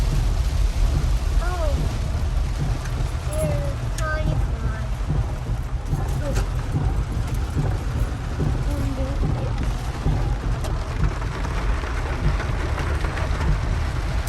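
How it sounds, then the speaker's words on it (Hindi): Heavy rain falls during the 2022 South East Queensland floods, a dense, unbroken downpour hissing loudly throughout, with people's voices faintly present beneath it. "और बारिश है कि थमने का नाम नहीं लेती"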